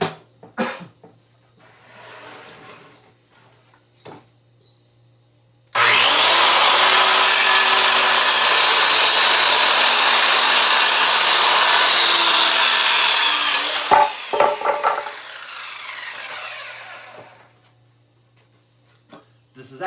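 A power saw cuts through wood for a bench build, one loud continuous cutting run of about eight seconds, with quieter clattering and handling before and after.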